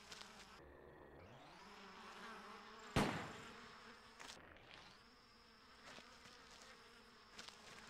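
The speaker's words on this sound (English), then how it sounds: "I think I shot the beehive" Insects buzzing from a shot beehive in the hunting video game Cabela's Dangerous Hunts 2, a steady droning hum with a sharp gunshot-like crack partway through and the pitch shifting as the view moves.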